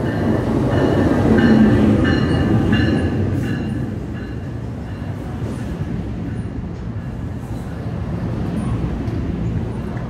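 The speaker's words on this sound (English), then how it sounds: "And here comes the train." A New Jersey Transit train rumbles into Hazlet station on the North Jersey Coast Line with a heavy low roar, steady wheel noise and faint clacks, loudest early on and easing as it slows.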